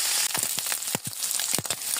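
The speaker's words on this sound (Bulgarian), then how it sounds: "Пържим октопода за 2-3 минутки от всяка страна до зачервяване, но не го държим много." Octopus fries in a hot pan with a constant bright sizzle, punctuated by several short crackling pops and spatters, close by and with no talk.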